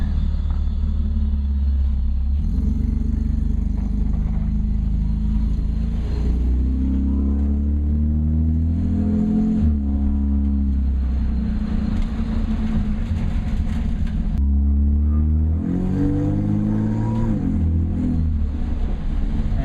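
A car engine runs continuously close by, revving up in repeated climbing sweeps broken by brief drops as gears shift hard, a loud steady drone throughout with no talking.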